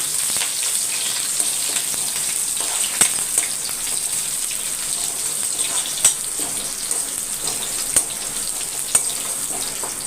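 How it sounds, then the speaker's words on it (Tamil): Steady sizzling and crackling of garlic and curry leaves frying in hot oil, with occasional sharp pops, close and continuous throughout. "இப்போ இதில் ஒரு பத்து பால் பூண்டு நச்சு போட்டிருக்கேன் கொஞ்சம் கருவேப்பிலை கொஞ்சம் பொறிஞ்சி வரட்டும்"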